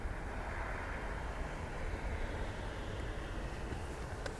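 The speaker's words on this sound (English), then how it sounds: "Another pushback here now as well." An aircraft is pushed back at Dublin Airport, heard as a distant, steady broadband roar of engines and ground equipment that runs continuously without clear peaks.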